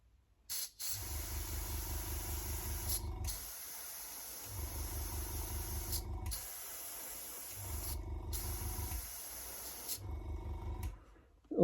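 A spray can paints an RC car body, Cross RC BC8 Mammoth, in four long hissing bursts separated by short pauses, close and loud, with no talking.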